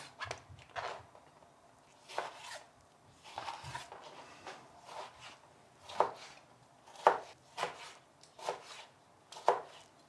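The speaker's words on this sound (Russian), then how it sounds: "Теперь я режу помидор на кубики." A knife dices a tomato on a cutting board in irregular taps, growing sharper and more rhythmic toward the end, close and fairly quiet.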